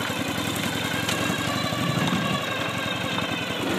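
Ural sidecar motorcycle engine running steadily while riding off-road up a power line trail, a continuous close, throbbing mid-pitched rumble with knocking pulses and no speech.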